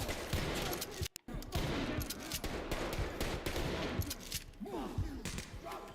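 Gunfire and a flashbang grenade bursting in the tactical shooter Ready or Not: dense, loud bursts of shots and bangs fill the stretch, with one sharp moment of near-silence after an early blast.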